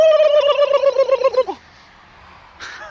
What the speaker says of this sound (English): What's a turkey say?